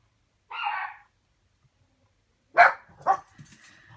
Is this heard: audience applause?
no